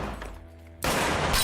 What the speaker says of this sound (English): Why are you shooting at the window?